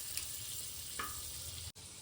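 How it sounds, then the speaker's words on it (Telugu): Butter sizzles and fries steadily in a pan for a paneer curry, a dense, even crackle that holds close and loud with a faint stir partway through and a brief cut near the end. "కొంచెం బటర్ వేసుకుంటున్నాను నేను"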